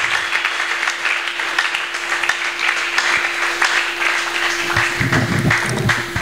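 A church congregation applauding the Lord together, a sustained wash of clapping from many hands with a steady low hum underneath and no talk over it.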